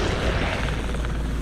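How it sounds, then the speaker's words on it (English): A helicopter circling in a video game gives off a steady, close rotor thrum and engine drone with no break. "Helicopter. Circling right above the enemy,"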